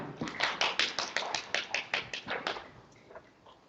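Audience members clap to welcome a candidate at a patent attorneys' association presidential election debate. The sound is a quiet run of sharp, fairly regular claps from a small group that thins out and fades near the end.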